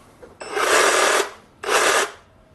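A cordless brushless reciprocating saw with variable speed runs in two short bursts, a loud, close, buzzing whine of about three-quarters of a second and then half a second, with a brief pause between.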